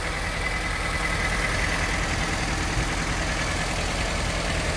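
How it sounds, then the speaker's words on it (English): A used car at an auction idles roughly with its engine shaking from a worn motor mount, a steady low rumbling drone that holds evenly and close throughout, with no voices over it. "Engine's shaking a little bit."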